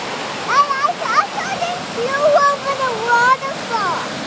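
Steady rushing roar of a waterfall in Alaska, constant and fairly loud, filling the background while people talk excitedly over it.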